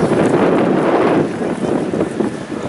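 Strong wind buffets the microphone in a steady, loud, low roar that barely lets up, with no talking.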